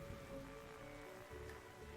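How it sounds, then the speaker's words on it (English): Rain at night in the game The Darkside Detective: a soft, steady patter of rain on surfaces, low in level with a faint tonal hum beneath, and no speech. "How come so much of our work is done at night in the rain, says Dooley."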